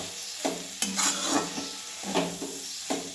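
A spoon stirs bean pod curry in a pan in close, quiet strokes, with soft scrapes and taps recurring every half second or so over a faint sizzle.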